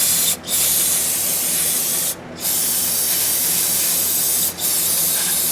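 Cleaner sprays to wash brake fluid off a car part, a loud, close hiss held in long bursts broken by three short pauses.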